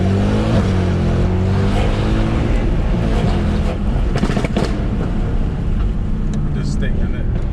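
A car on Michelin PS4 tyres accelerates hard, its engine droning loudly and climbing steadily under constant road and wind noise from inside the cabin.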